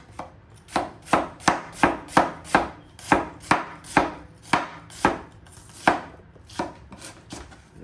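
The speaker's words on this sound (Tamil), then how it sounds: "இது ரொம்ப தின்னாக வெட்டணும்." Onions sliced very thinly with a knife on a board for onion vada, about twenty crisp, evenly paced chops close up, with a brief pause near the end.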